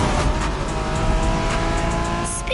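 A 1990s Honda NSX sports car drives in the racing video game The Crew, its engine droning loudly and continuously before a brief tire squeal near the end, with no talk.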